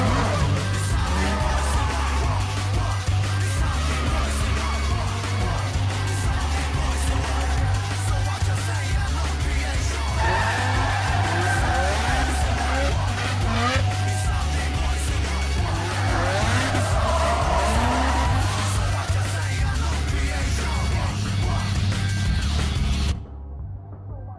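Cars drift with skidding tires in a Rocket League trailer: loud, continuous engine roar and screeching tire squeal over a pulsing low rumble, running unbroken for over twenty seconds before cutting off abruptly.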